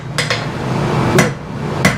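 A hammer strikes hot steel while a blade is forged, three or four sharp metallic blows at uneven intervals ringing close over a low background rumble.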